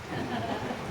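Steady rain falls outside, a continuous even hiss of moderate loudness with no break and no other sound standing out.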